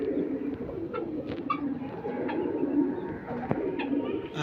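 Pigeons coo softly and repeatedly inside a loft kept for Oman-blood birds, the low throaty calls overlapping steadily at close range with a few brief chirps and no talking.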